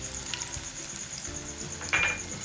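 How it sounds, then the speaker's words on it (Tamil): Bread slices frying in hot oil for a Shahi Tukda dessert give a steady, dense crackling sizzle throughout, with a brief louder spatter near the end and no talking. "இப்போ வந்து நான் இதெல்லாம் போட்டு ப்ரெட்டெல்லாம் போட்டு பொரிச்சிடலாம்."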